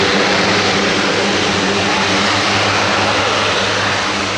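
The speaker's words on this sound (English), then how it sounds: "One of the longer reverse taxis I've ever seen a Hercules do at an air show." An RCAF Super Hercules propeller transport reverse-taxis at an air show at Yeovilton, its turboprop engines roaring in a loud, steady, close drone.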